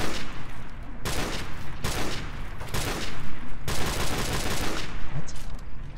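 Video game gunfire from Call of Duty Modern Warfare Remastered during a 1v1 match: loud, dense bursts of shots in several long volleys with brief gaps, close and continuous.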